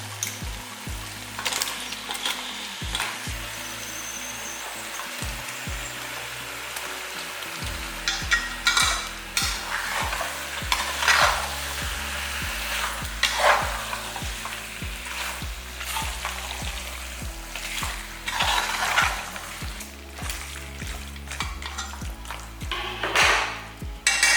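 About one and a half kilograms of chicken is stir-fried with onions in a pot for biryani, sizzling loudly and continuously, with frequent scraping stirs and clanks of a ladle close by.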